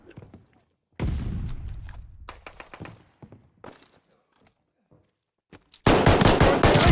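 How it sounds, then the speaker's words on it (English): Gunfire in Call of Duty Vanguard multiplayer, likely MP40 fire: a heavy burst with a decaying tail, a string of sharp single shots, scattered quieter pops and a final loud sustained automatic burst, with brief talk between. "Where are those shots at?"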